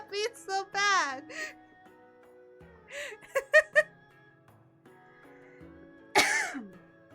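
A person coughs and clears the throat after laughing, several short harsh bursts with pauses and a final sharp cough, mixed with vocal sounds.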